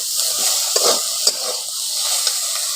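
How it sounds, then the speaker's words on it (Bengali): Salt and chilli powder are stirred into oil in a frying pan with a soft steady sizzle and several scraping strokes of a spoon, close up and without talk. "এবার পরিমাণ মতো লবণটা দিয়ে দিচ্ছি, অল্প করে লঙ্কা গুঁড়ো, ওগুলো দিয়ে ভালো করে এখন মিশিয়ে নিচ্ছি।"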